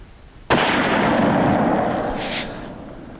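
A single loud, close crack from a Weatherby 240 rifle being sighted in at 25 yards outdoors, followed by a long rumbling decay that fades over a few seconds.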